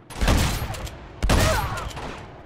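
Two loud bursts of rapid gunfire in the video game Uncharted 2, one after another, each ringing out briefly with a sharp attack and a fading tail.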